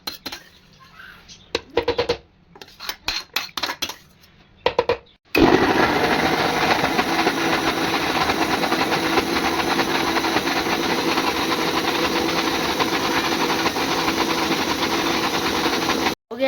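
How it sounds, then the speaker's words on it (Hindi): A kitchen mixer grinder whirs steadily as it grinds cooked masala, a loud continuous motor roar lasting about eleven seconds, preceded by clattering jar and handling noises. "फिर इसको मिक्सी में पीसेंगे।"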